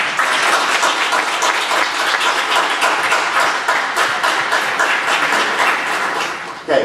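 Audience applause at a school band and choral concert, a dense, steady wash of many hands clapping throughout, loud and sustained, with a brief louder burst at the very end.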